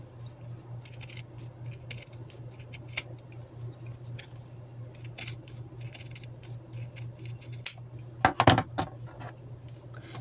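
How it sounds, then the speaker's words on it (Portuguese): Scissors trimming excess cloth from the seams of a handmade rag doll body, giving quiet, scattered snips and ticks over a steady low hum, with a brief cluster of louder cuts near the end. "Agora, eu vou cortar o excesso do tecido."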